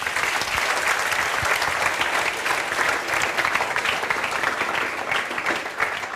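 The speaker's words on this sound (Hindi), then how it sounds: "ताली बजाओ जोरदार।" Loud, sustained applause from an audience fills the space without a break, dense clapping from many hands at a steady level, with no talk over it.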